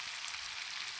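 Shrimp and a spice paste of ginger, chili powder, salt and turmeric fry in a pan, giving off a steady, even sizzling hiss throughout with no voices.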